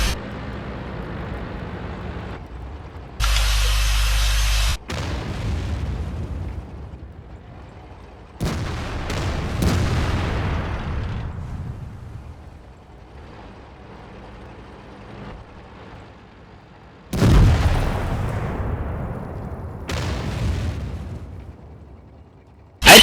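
Several deep, booming tank explosions in a video game go off one after another, each a loud burst followed by a rumbling decay, with quieter gaps between them.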